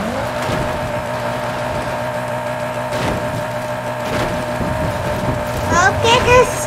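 Car engine in Forza Horizon 5 hums steadily throughout, with a voice talking over the game sound.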